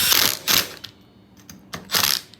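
Clutch being tightened back onto a Stihl FS 110R weedeater, giving three bright metallic ratcheting bursts spaced about a second apart, with faint clicks between them, close and loud.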